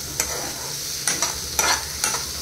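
Pasta ingredients stirred and fried in a pan, with several distinct scraping strokes of the utensil over a steady sizzle, close and clear, with no voices.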